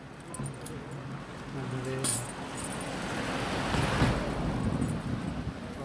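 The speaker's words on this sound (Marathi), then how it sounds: "पाणी कसं भारी चाललं" Continuous rushing water with gusty wind noise on the microphone, and a faint voice briefly in the background.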